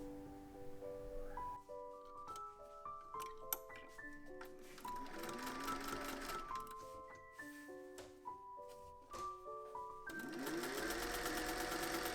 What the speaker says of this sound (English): Sew front and back skirt with right sides together.